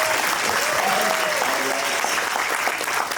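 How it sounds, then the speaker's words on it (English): Sustained audience applause for the panelists at a Halloween Horror Nights convention panel at Spooky Empire 2024, a dense even wash of many hands clapping at steady loudness, with faint voices mixed in. "Let's give another round of applause for our wonderful panelists"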